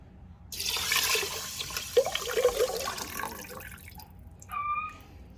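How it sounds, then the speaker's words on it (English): Bone broth poured from a container into a pot holding three cups of rice, a steady gurgling stream for a few seconds that fades out, followed by a brief clink. "I'm gonna put 6 cups of bone broth in there."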